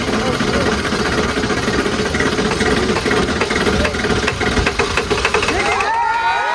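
A 1997 Ford F250 diesel engine runs on plastic-derived diesel, a loud, steady mechanical rumble with rough knocking texture that continues throughout, with no talk over it.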